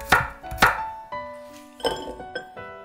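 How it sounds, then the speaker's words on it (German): A knife slices garlic cloves into thick slices on a cutting board, a few quick, irregular chops, with light clinks and ringing overtones between the cuts. "3 Knoblauchzehen auch in dicke Scheiben schneiden."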